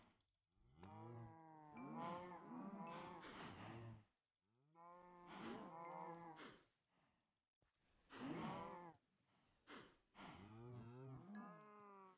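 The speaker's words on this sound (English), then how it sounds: "We gotta check the cows." Several long, drawn-out cow moos in Minecraft follow one another with short pauses between them, clear and fairly close, with no talking.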